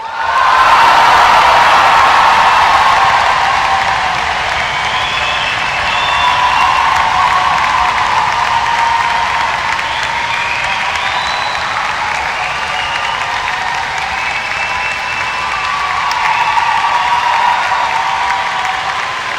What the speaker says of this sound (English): let's have a last big Dundee cheer!